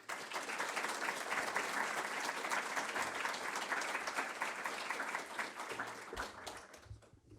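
An audience at a talk on French diplomacy welcomes a speaker with sustained applause, dense clapping from a moderately distant crowd that fades out near the end.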